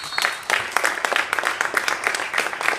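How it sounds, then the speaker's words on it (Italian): Fans of Fonte Meravigliosa clap and cheer at an amateur first-category Italian football match against Real Velletri. Bursts of applause and crowd noise come in quick, uneven waves from the stands for a few seconds. "Sale forte l'incitamento dei tifosi del Fonte Meravigliosa"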